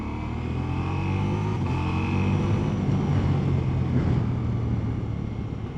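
A Ducati Multistrada V4S motorcycle engine held on the throttle in sport mode, giving a steady, fairly loud droning hum with a strong low rumble that swells slightly through the middle, no talking.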